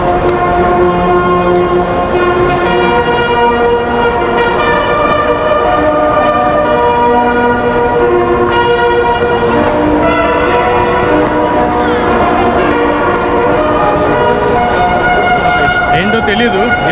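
Outside a railway station in Switzerland, a procession marches past carrying flags, with bright, steady band or bell-like tones ringing loudly and continuously, while voices are faintly mixed in.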